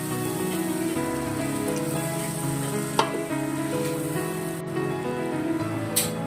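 Spiced masala for a shrimp curry sizzles in a pan after water goes in, a steady close hiss with a few faint clicks and taps and no talking.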